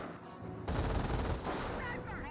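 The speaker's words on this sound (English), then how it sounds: "Sniper fires away." Sniper and battlefield weapons firing in the strategy game Company of Heroes 1, a sudden loud crack-laden burst of fire sustained for under a second, then softer trailing shots and faint battle noise.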